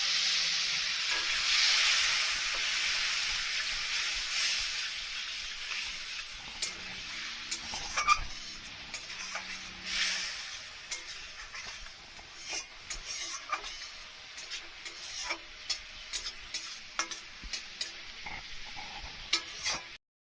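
Spices frying for a ridge gourd curry, a broad hiss and sizzle that softens over time, punctuated by sharp clinks and scrapes of a spoon against the pan, no voices.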